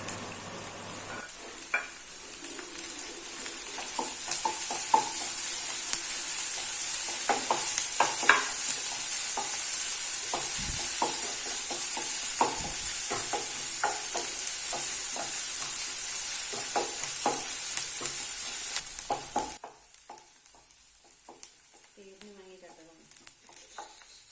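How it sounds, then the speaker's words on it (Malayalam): Green chili, ginger and garlic sautéed in a pan give off a continuous bright sizzle, with scraping stirs and clinks of the spoon, before the frying noise suddenly drops away. "ഇനി അടുത്തത് ഇതിലേക്ക് നമ്മുടെ പച്ചമുളക്, ഇഞ്ചി, വെളുത്തുള്ളിയൊക്കെ ചേർത്തിട്ട് നമുക്കൊന്നും കൂടെ വഴറ്റിയെടുക്കാൻ പോവാണ്."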